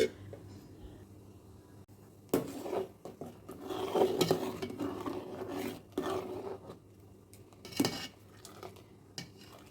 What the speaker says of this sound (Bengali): চিনি দেওয়ার পর এভাবে নাড়াচাড়া করতে হবে যাতে হাঁড়ির নিচে চিনি লেগে না যায়।